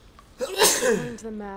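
A single loud, close sneeze from a player during Horizon Forbidden West gameplay, followed by game character speech in the background.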